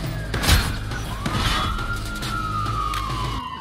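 Police car siren in the video game Watch Dogs 2 rises and wails steadily over game noise and a loud thud, with the tone sweeping slowly across the whole span.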